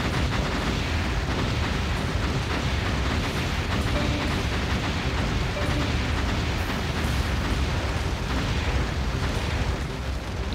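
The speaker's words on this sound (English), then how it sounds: "And some of the colonies did indeed explode." Colonies blow up in the space strategy game Light of Altair, a dense, continuous roar of overlapping explosions that stays loud throughout.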